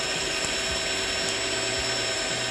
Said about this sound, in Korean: 분쇄 한번 소리 한번 들려드릴게요.